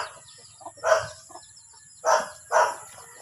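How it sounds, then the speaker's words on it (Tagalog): Three-day-old chicks chirp close by in a few high, short peeps, with two louder calls near the end and quieter cheeps in between. "puntahan natin yung mga sisiw natin dito"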